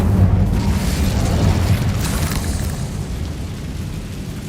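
A fire spell cast in the video game Hogwarts Legacy, heard as a loud booming whoosh of flame that swells at the start and then rumbles and slowly fades over several seconds, with no talk.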